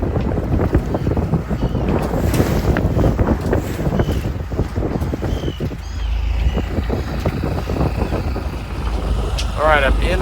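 A sailboat hobby horsing through close-set choppy waves of two to three feet in the North Channel, with steady loud wind buffeting and rushing water throughout, and a voice speaking over it.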